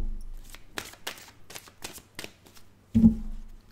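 Oracle cards by Tony Carmine Salerno being shuffled by hand, a series of quick papery riffles and flicks in short bursts, ending with a soft tap as the deck settles.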